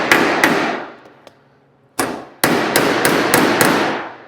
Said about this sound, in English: Let me hammer.